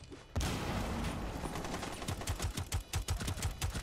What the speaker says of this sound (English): Nick, wall bang him